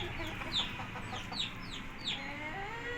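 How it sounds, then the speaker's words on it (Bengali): Native desi chickens cluck in a few short, quiet bursts from a moderate distance, with no talking. "দেশি মুরগি।"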